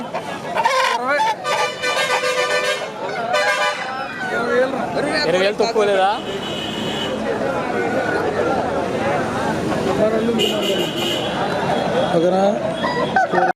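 Fighting roosters at a rural market crow and cluck near at hand while people bargain and talk over them, with crowd babble in the background.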